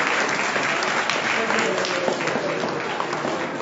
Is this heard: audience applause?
yes